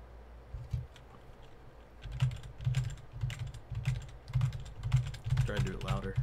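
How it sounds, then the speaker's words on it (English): Rapid, fairly close clicking of WASD keys being tapped on a computer keyboard during gameplay, steady bursts of taps with brief low thumps, and a voice briefly heard near the end. "I'm just tapping the WADS."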